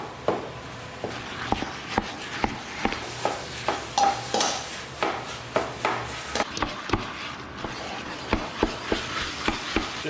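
Five pounds of ground meat with garlic and onions cooks in a pot for Bolognese sauce, a close sizzle broken by regular scraping knocks of a utensil stirring against the pot.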